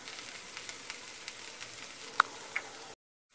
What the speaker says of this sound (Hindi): अब हम इसमें बॉईल किए हुए बीन्स डाल देते हैं।